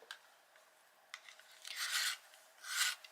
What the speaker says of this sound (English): I shall give it a sharpen